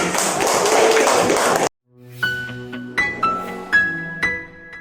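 A classroom full of students claps loudly for a winning group in a thick burst of applause that stops abruptly, followed by a run of bright, ringing tapped tones.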